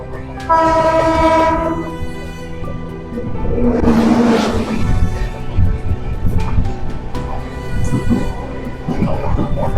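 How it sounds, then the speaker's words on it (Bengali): An Indian superfast express, the weekly Visakhapatnam–Chennai Central service, passes close by with a loud, continuous rumble and clatter of wheels on rails, a sustained horn blast sounding near the start and rolling noise filling the rest. "এই যে ট্রেনটা দেখলেন, এর ট্রেন নাম্বার হচ্ছে 22801, বিশাখাপত্তনম থেকে Chennai central weekly superfast express"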